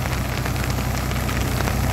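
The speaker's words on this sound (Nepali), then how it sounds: "तप तप तप तप पानी परिरहेको छ, इतना सिम सिम सिम सिम पानी परेको छ" Heavy rain pours steadily onto flooded paddy fields during rice planting, a dense, unbroken hiss of drops close by with no voices.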